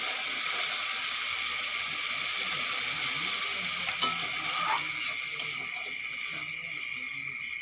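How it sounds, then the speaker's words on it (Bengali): Water poured into frying masala for a coral fish curry, a steady hissing, sizzling rush filling the whole stretch, close and loud, with a brief clink partway through. "এখন দিয়ে দেব জল"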